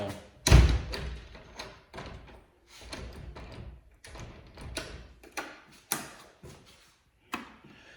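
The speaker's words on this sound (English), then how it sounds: "Let me lock this back door." A back door of a house under remodel being locked: a loud door thud near the start, then a series of softer clunks, knocks and mechanical rattles of a latch or lock, with no talking.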